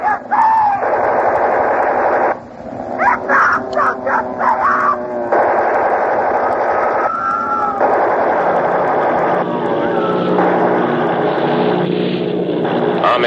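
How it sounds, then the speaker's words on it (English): Air raid effects from the War of the Worlds radio drama: droning propeller aircraft with bursts of rattling machine-gun fire, loud and continuous, with brief radio-style breaks and shifting tones throughout. "We can hear the influence of air raid in War of the Worlds as Lieutenant Vogt leads a squadron of fight"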